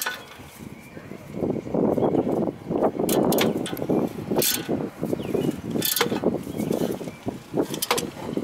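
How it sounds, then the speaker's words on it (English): Wrench working on the front brake assembly of a 2014 Ford Focus, tightening the rotor bracket: close metallic ratcheting and clicking in repeated bursts, with clanks and scrapes of tools against the car. "then you can use the wrench."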